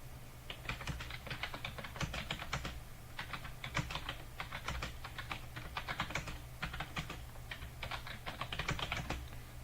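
Fast keystrokes clatter across a computer keyboard in rapid runs with short pauses, close and clear with no talking.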